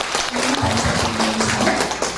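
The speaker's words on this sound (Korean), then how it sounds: "우리 박수 한번 하겠습니다" A church congregation at a worship service applauds together, a loud, dense, continuous wash of clapping from a large crowd with a low hum beneath.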